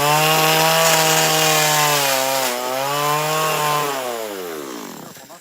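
Chainsaw carving cardinals out of wood on a brand new chain, a loud steady buzzing drone that dips slightly midway and then winds down as the engine tapers off at the end.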